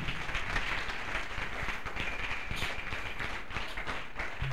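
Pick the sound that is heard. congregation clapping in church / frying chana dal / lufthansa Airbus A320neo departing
congregation clapping in church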